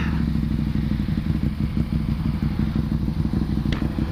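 A motorcycle engine runs steadily nearby with a low, rumbling, slightly clattery tone and no speech.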